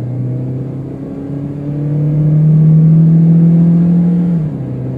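Honda Freed Facelift S engine revving under kick-down acceleration from inside the cabin, a loud steady drone that climbs in pitch, swells, then drops sharply as the gear shifts near the end.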